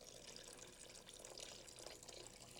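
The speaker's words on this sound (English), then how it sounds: "I've got a pot of sugar, and I'm going to pour some water over top just to dissolve it" Water poured over sugar in a cooking pot to dissolve it for an apricot syrup, a steady close splashing and trickling stream that continues throughout without talk.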